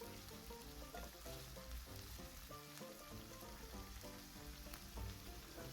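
Meat sizzles steadily in a hot frying pan for a home-cooked dish, a continuous close crackle running the whole time beneath background music.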